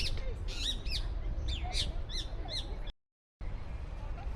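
Several birds chirp and tweet from a tree in Miracle Garden, a flowery park in the UAE, with repeated bright calls over low outdoor noise and a brief dropout near the end.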